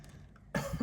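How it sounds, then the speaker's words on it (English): A single short cough from a person, sudden and close, with a brief second burst just after a quiet moment. "my little cough there that I have no explanation for"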